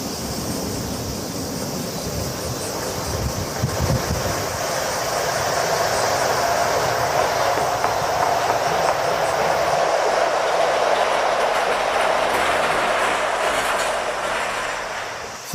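A train rumbles along the tracks near Tokyo, swelling into a steady, broad roar as it draws near and passes, with a faint hiss above.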